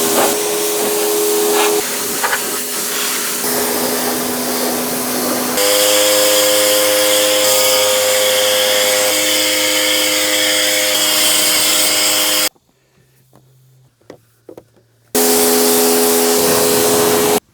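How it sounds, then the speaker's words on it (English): Small electric pressure washer spraying while cleaning a Polaris Ranger, a loud steady hissing whine with motor hum, cutting out briefly near the end before resuming. "This little electric pressure washer has come in extremely handy."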